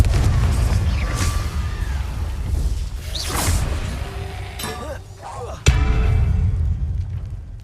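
A Confringo blasting spell from the Hogwarts Legacy video game: magical whooshes build up, then a sudden sharp explosive burst sounds, followed by lingering crackle and rumble.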